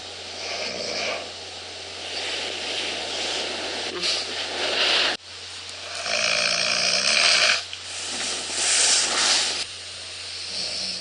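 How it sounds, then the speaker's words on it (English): A person snoring during sleep, with repeated loud breathy rasping snores in an uneven rhythm, close and dominant, over a steady low background hum with brief rustling between breaths. "On the nights that I do snore, the recording will show that the snoring sometimes wakes me up"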